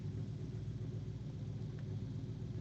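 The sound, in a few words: DeSoto car engine idling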